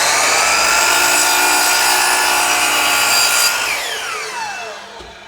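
A miter saw cuts across the end of a wooden board with a loud, high whining rip that holds for about three seconds, then the blade spins down with a falling pitch.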